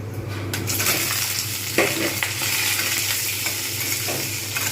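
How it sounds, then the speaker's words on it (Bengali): Boiled potatoes frying in a pan for chhanar dalna, a steady close sizzle with occasional spatula scrapes and stirring clicks. "এইবার আমি এতে আলুগুলো ভালো করে ভেজে নেব"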